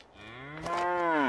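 A cow moos in the farm-management game Ludus Simulator, a single drawn-out, rising bellow that swells louder toward the end, heard alone and close.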